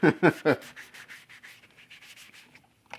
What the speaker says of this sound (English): I'm sitting here kind of sanding it smooth